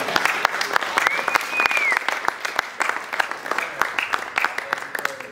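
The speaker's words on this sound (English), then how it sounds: "I got to tell you to clap your hands on that." Church congregation clapping hands during a service, dense steady applause with sharp claps throughout, a voice briefly audible over the crowd.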